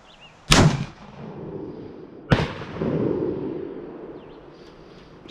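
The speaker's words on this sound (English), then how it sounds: "So this is LeMat shotgun barrel 62 caliber round ball." A LeMat shotgun barrel fires a .62 caliber round ball: two loud, sharp blasts about two seconds apart, close by, each trailing into a rumbling outdoor echo, with no voices.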